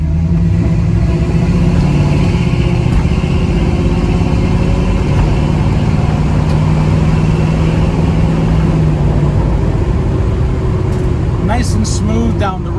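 A 1967 Chevrolet Camaro drones steadily on a test drive, its engine a continuous close, loud rumble with slight pitch shifts as speed changes. A voice may sound faintly beneath it.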